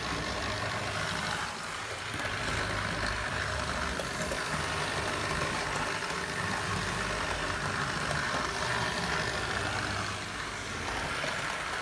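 A new Hornby GBRF Class 50 model locomotive being run in makes an unusual noise, giving off a continuous, fairly quiet whirring hum that stays steady throughout with no voices.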